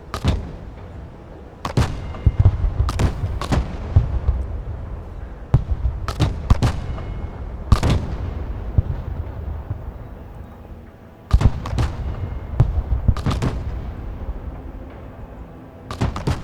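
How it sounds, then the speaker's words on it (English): An artillery fire mission in the Broken Arrow game booms out as repeated sharp cannon shots at irregular intervals, some in quick pairs, over a rumbling battlefield backdrop. "indirect fire artillery units don't fire automatically. Right click to begin the fire mission"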